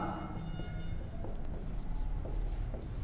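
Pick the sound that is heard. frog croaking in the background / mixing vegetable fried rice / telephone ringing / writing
writing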